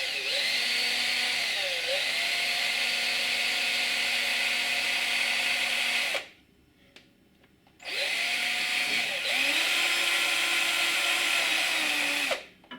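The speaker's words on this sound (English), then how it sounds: "So I've got a 3mm drill which will go through the middle of the M4 hole." A power drill with a 3mm bit bores through a tooth of a replacement drive belt, giving a high, whining buzz in two long, steady bursts separated by a short silent pause, loud and close.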